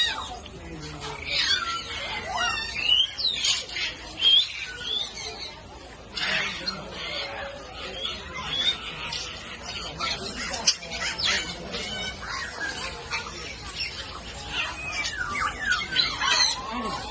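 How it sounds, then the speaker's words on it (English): Parrots in the parrot zone of a safari park squawk and screech repeatedly, shrill calls overlapping near and far, while people talk over the noisy aviary. "We are going to enter into the parrot zone."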